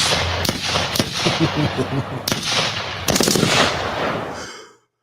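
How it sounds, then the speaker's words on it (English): Bursts of gunfire crackle loudly in rapid volleys over a dense, noisy backdrop, with a few sharp single shots standing out. "Well, we going with the gunshots."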